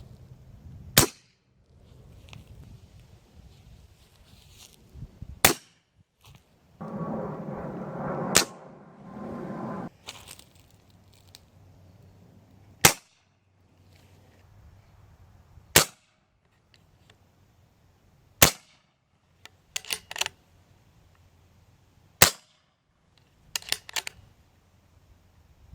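Diana Air Max Varmint PCP air rifle, charged to 200 bar, fires a series of sharp, loud pops at irregular intervals, about ten shots, with quiet gaps and brief rustling handling noise between them.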